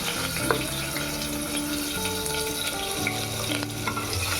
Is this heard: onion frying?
yes